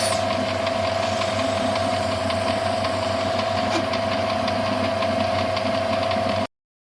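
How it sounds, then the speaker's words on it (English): A reamer cuts a bushing to size in a lathe bearing block, giving a steady mechanical whir with a sustained tone and a fine ticking rattle, close and constant before it cuts off abruptly. "And finally it is reamed to size."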